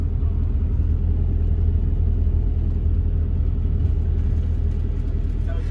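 Camper van driving through Andorra, a steady low engine and road rumble continuing evenly throughout at close range, with no talk over it.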